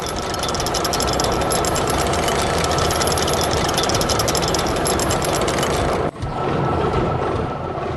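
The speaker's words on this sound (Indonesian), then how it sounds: "Traktor merah sedang menggemburkan tanah dengan plow-nya" Steady, loud engine drone of a red tractor ploughing a field, with a rough knocking chug, running continuously and briefly dipping near the end before resuming.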